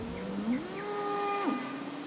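Wild cattle in a herd lowing in a long, drawn-out moo with a pitch that rises and holds, clear and fairly close over a steady background hum.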